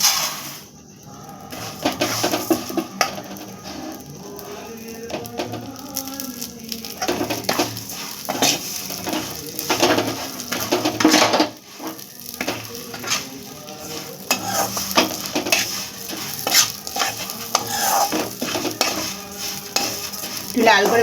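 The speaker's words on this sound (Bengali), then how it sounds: "সিমুইটা ভেজে নেব।" Semai vermicelli frying in ghee in a pan, stirred with a utensil, giving a steady sizzle with repeated scraping and clinking against the metal, close and fairly loud throughout.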